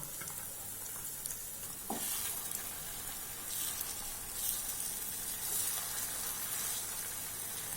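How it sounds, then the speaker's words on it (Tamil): Eggs cooking in a spicy masala on a low simmer in a pan give a steady, close sizzle and bubbling hiss throughout, with a few soft scrapes of stirring and no talking. "இப்போ சிம்மில் வச்சு வேகணும் இப்போ முட்டை லேசாக வெந்து வரட்டும்"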